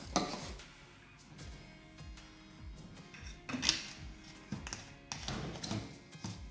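Homemade disinfecting spray with essential oil being mixed in a container, giving repeated tapping and knocking with faint stirring and clinking, close and moderately loud, and no talking.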